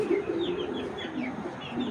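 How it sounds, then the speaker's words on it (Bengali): A female Old Breed silver-line pigeon coos and stirs while trying to get out of confinement, giving brief throaty calls close by in a short burst. "কবুতরটা বের হয়ে যাওয়ার জন্য অনেক চেষ্টা করতেছে"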